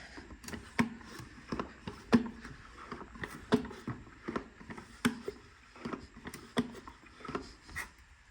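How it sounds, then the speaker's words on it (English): Repeated rhythmic squeaking strokes of a pump-up sprayer priming an LS engine's oiling system, about two per second, close and fairly quiet, with a soft hiss underneath and no talking. "let's give a few more pumps with the pump up sprayer"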